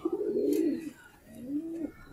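A Kasuri pigeon, a male, coos up close, two low throaty rolling calls with a short pause between them.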